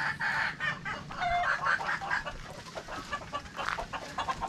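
Chickens on a rural farm in the province, several hens clucking and chattering in short irregular bursts close by, with no talk over them.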